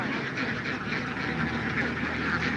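A large flock of domestic ducks, Chinese and Belgian breeds kept on a roaming farm, quack together in a dense, continuous racket close by.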